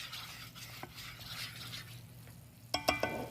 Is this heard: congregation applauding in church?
no